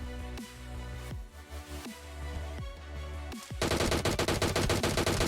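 Gunfire in PUBG Mobile: a few single heavy shots with echoing tails, then a rapid sustained automatic burst, loud and with no talk.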